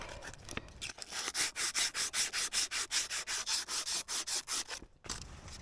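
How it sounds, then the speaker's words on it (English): Hand sanding with 180 grit sandpaper produces a quick, even back-and-forth rasp, close and fairly soft, running in about a dozen regular strokes before stopping. "We're just going to give it a little sand. I'm going to start out with, I happen to have 180 grit, so I'm going to start with that."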